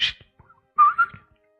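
A person imitates a special deer-call whistle during a tabletop role-playing session, a brief breathy burst followed by two short tonal whistled notes, close and alone.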